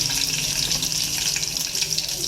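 Mustard seeds, crushed garlic and dried chillies sizzling in hot oil in a pan for tomato rasam, a loud steady crackling hiss filling the whole stretch with no talk.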